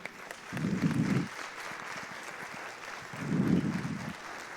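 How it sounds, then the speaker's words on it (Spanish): Applause from a labor-union congress audience welcoming a speaker, a broad wash of clapping with two louder low swells, moderately distant in a hall. "Recibamos con un fuerte aplauso a Alejandro Rangel Segovia"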